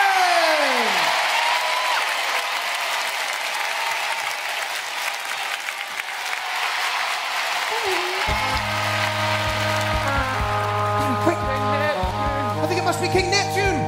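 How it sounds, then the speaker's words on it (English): A theater audience at a children's sea-themed stage show cheers and claps loudly and steadily, and partway through, bright band music swells up underneath the applause. "let's have a huge cheer for the superstars of the deep"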